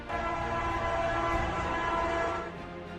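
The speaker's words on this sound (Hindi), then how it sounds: "वो आवाज जो आ रही थी वो ट्रेन के हॉर्न की थी" A loud, sustained train horn blares with rich harmonic tones inside a tunnel, echoing heavily, fading slightly near the end.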